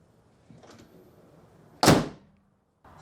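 The hood of a Land Rover Discovery 5 is shut with a single sharp, loud thud after a few faint handling noises, then quiet.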